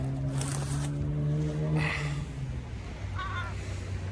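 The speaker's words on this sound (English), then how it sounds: "I've got some bread for the seagulls." Seaside birds call out nearby: loud honking, squawking cries in bursts, with a deep drone and wind noise underneath.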